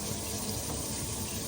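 Water runs steadily from a sink faucet in a house where plumbing is being fixed, a loud, continuous close hiss with no pauses or talk.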